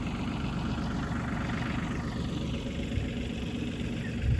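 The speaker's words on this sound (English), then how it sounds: "But got the tractor started" A tractor engine idles steadily close by while a small compost pile waits to be turned, making a continuous low rumble with no talk over it.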